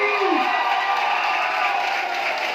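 A dense, steady roar of audience cheering and clapping fills a motivational training session at the Goa Mahasangram. Whoops and shouts blend into one loud, continuous wash that holds for the whole stretch.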